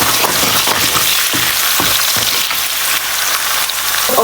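Onion and chili fry in a pan with salt over a raised flame for a Naga smoked pork dish. A loud, dense, steady sizzle carries throughout, with a few soft stirring knocks and no talking.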